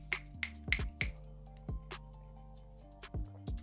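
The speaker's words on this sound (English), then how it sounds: "You just snap." Several crisp finger snaps, a quick burst of three or four close together and then scattered single snaps, sound close over a steady backing track of music during a football video game pack-opening session.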